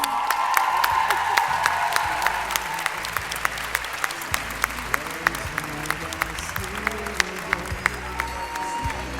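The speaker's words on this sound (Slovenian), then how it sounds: "Mi dajemo aplavz." A large audience claps steadily and continuously, a dense wash of applause with some cheering mixed in.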